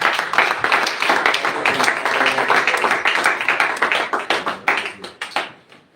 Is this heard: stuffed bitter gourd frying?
no